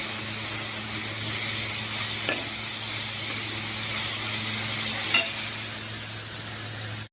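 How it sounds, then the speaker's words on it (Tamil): Onions sautéing in a pan for moong dal sambar give a steady, close frying hiss that runs unbroken, with two faint stirring clicks partway through and a low hum underneath. "தேவையான அளவு வெங்காயம் சேர்த்துக் கொண்டு லேசாக வதக்கிக் கொள்ள வேண்டும்"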